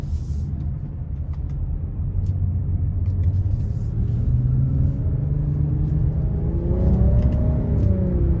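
A 2023 Nissan Rogue SL with its 1.5-litre turbo engine in sport mode, heard from inside the cabin, holds a steady low rumble that rises in pitch as it accelerates and shifts through the paddles, loud and without talk.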